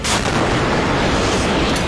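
Dense, continuous rumbling barrage of missile launches, explosions and artillery fire at sea, loud and sustained throughout with no pauses, like a heavy bombardment close by.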